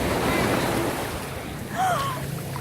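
Ocean waves wash and hiss in a steady surf, with wind rumbling across the microphone and a brief voice partway through.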